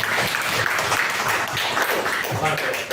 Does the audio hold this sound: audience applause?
yes